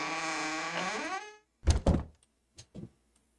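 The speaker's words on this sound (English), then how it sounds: "And both doors should open." Double doors opening in a video game engine: a long sliding tone that falls away, then a heavy thunk, and two quieter knocks after it, clean and isolated.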